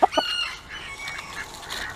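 Ducks and other poultry call while being fed in a farmyard, with a couple of loud, close quacks or clucks at the start, followed by softer, fainter calls over background noise.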